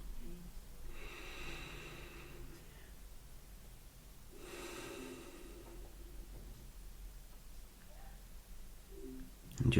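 Slow, deep breathing during a relaxation meditation, with soft exhales that come in long airy swells, faint and close, against a quiet background.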